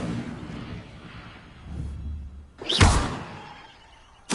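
Incendio fire spell cast in the video game Hogwarts Legacy: a rumbling swell building into a loud fiery whoosh and blast, followed by fading roar and another sharp burst at the end.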